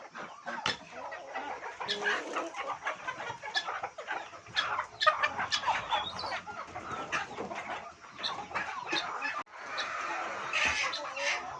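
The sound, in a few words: chickens clucking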